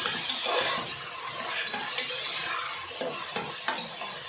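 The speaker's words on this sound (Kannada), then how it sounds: "ಈಗ ತರಕಾರಿನೂ ಕೂಡ ಚೆನ್ನಾಗಿ ಫ್ರೈ ಮಾಡ್ಕೊತೀನಿ." Vegetables are stir-fried in a pan, with a steady sizzle broken by repeated scrapes and clinks of a spoon against the metal, close and fairly loud with no voices.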